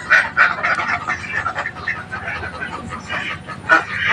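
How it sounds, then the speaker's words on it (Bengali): A dense, unbroken chorus of clucking and squawking from a crowd of broiler chickens packed in a farm shed, loud and close, with no clear pauses. "ব্রয়লার মুরগির ফার্ম"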